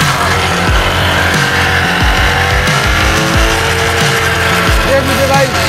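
A motorbike engine revs hard through its silencer while inflating a big balloon, with loud repeated throttle surges and drops in a steady rhythm, and a voice talking over the engine noise.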